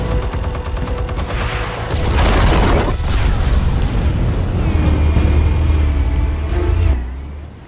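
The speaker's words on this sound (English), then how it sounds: "Explosives armed. Fire when ready." Explosives detonate in Batman: The Telltale Series, a series of booming blasts and crackling bursts that swell into a loud rumbling roar before cutting off.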